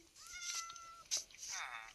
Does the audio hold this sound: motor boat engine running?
no